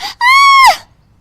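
A woman screams as the end of her sari catches fire while she rushes to put out a kitchen stove: one loud, high, sustained cry of about half a second that rises and then breaks off, with no other sound around it.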